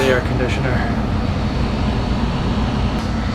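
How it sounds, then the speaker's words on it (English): Steady broadband whoosh of an air conditioner running near a machine shop, a constant hum and airflow hiss with a low rumble underneath, continuous and close throughout. "Taking a break in front of the air conditioner."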